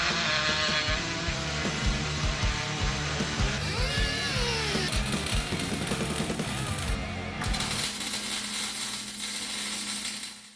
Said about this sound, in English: so we got to grind some of this out.